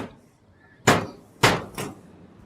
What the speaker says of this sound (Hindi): अरे ये हथौड़े क्यों मार रही है?